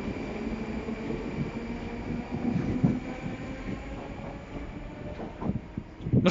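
Metro trains run along the Butovskaya line between Bittsevsky Park and Buninskaya Alleya, giving a steady close rumble of wheels and carriages with louder clanking surges near the end.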